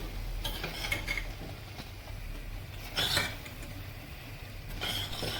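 Cooked vermicelli being stirred with cardamom powder in a pan, giving soft scraping and a few light metallic clinks of a spoon against the pan, steady and close with no talking.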